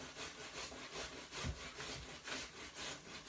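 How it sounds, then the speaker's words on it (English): Potatoes are shredded on the standard side of a metal cheese grater in steady rhythmic strokes, a rough rasping scrape repeating about every half second, close and moderately quiet. "And I'm going to just shred these potatoes."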